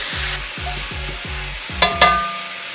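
Pieces of pork carnitas sear in a pan with a brief close sizzle at first, then low rhythmic scraping as they are flipped, ending in two sharp clicks of utensil on pan.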